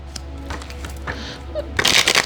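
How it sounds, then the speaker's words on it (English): A deck of tarot cards being given a quick shuffle, soft riffling that swells into a dense, loud burst of card flutter near the end. "I'm just going to do a quick shuffle on camera"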